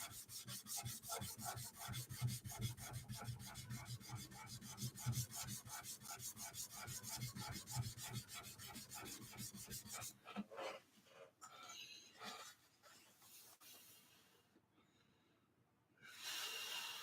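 A forged dagger blade is sanded by hand in a smithing shop, giving a steady rhythmic rasping rub of strokes that continues for about ten seconds, followed by quieter scattered scrapes, handling noises and breaths.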